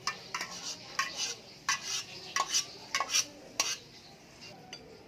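A spoon stirs and mixes cooked instant noodles with seasoning in a bowl, giving repeated clinking scrapes in an uneven rhythm, close and clear, with no voices.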